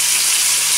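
Cooking sauce sizzles in a pan with a bright, continuous hiss, loud and close, steady for under a second with no talk.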